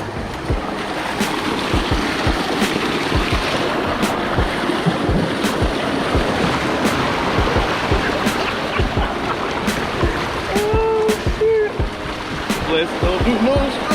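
A waterfall in Guam after a typhoon, with steady loud rushing water and wind buffeting the microphone, close by, and occasional voices underneath.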